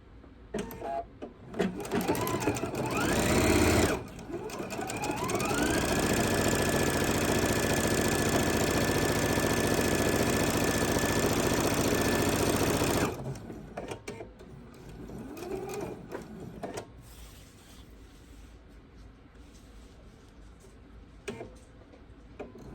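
A sewing machine chain pieces bowl cozies, running in a long steady burst with a rising whine, after shorter starts and stops and followed by quieter handling noises.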